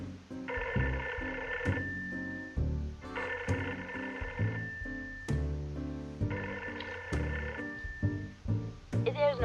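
Telephone ringing on and on with no answer in the Post Mortem video game, three long repeated ring bursts with pauses between, loud and close, over low game background sounds.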